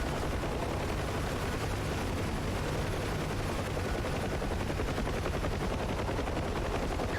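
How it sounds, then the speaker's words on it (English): Steady, dense rattle of machine gun fire in the DCS World flight simulator, heard near a UH-1 helicopter, a continuous loud stream of rapid shots with no pauses and no talk. "Somebody's shooting at something."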